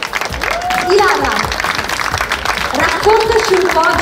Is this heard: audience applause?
yes